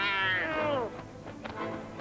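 A cat lets out a long, drawn-out falling meow in an animated Watership Down episode, followed by quieter scuffling sounds.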